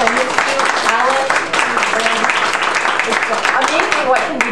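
Audience applause at an International Women's Day gathering, a dense steady wash of clapping lasting throughout, loud and close, with voices mixed in.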